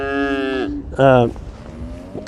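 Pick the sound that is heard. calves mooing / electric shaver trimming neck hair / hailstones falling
calves mooing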